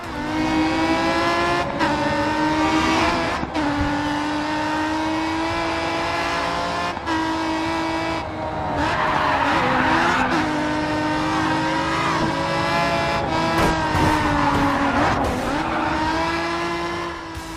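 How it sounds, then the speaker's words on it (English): Race car engines in the Grid 2 video game roar and rev continuously, with shifting pitch as cars accelerate and pass, and tires squealing in bursts over the loud, sustained engine noise. "the immersive soundscape of roaring engines and squealing tires"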